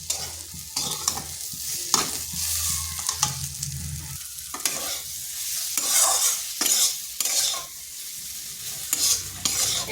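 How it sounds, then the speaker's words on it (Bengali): Kundru, or ivy gourd, fries in a pan with a steady sizzle while a spatula scrapes and stirs it in repeated strokes, close up and with no one speaking. "এবার আঁচটা স্লো করে এটাকে 3 থেকে 4 মিনিট একটু ভেজে নিচ্ছি।"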